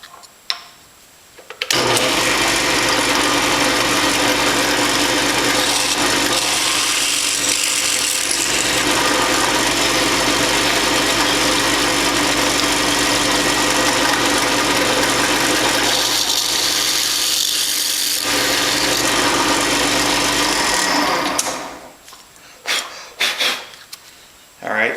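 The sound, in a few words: power drill drilling metal bracket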